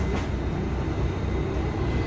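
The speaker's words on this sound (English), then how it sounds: "This is a Manhattan-bound 7-skip stop train." A New York City subway 7 train, a Manhattan-bound skip-stop service, rumbles steadily with a continuous low roar of wheels and car noise, loud and close throughout, with no talk.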